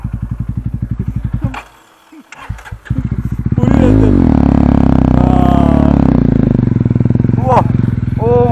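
A motorcycle stuck in deep mud putters, then is revved hard into a sustained loud roar with wavering pitch, close by, while people shout and talk over it.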